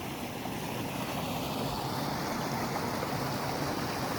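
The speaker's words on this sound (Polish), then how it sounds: "Zobaczcie, jak teraz rzeka idzie." A river flows through meanders in a forest, a steady, moderately quiet rush of water with a broadband hiss that continues unchanged throughout, with no talking.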